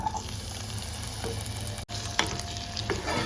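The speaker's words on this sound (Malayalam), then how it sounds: "ഇത് എണ്ണയിലിട്ടൊന്ന് വഴറ്റി എടുത്തിട്ട് വരാം" Tomato and garlic sauté in hot oil for a chicken roast, giving a steady, close sizzle with stirring scrapes and a brief break partway through.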